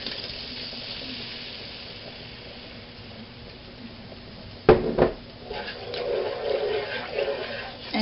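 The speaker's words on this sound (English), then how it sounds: "Now to our garlic and butter, I want to add 1 cup of half and half." Half and half poured into a pan of garlic and butter, a sudden loud splash and rushing hiss of liquid hitting hot fat, followed by a sustained bubbling sizzle after a quiet stretch.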